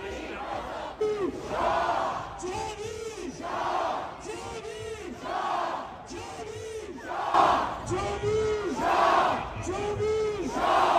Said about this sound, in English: Look at the massive crowd right now in London, London style.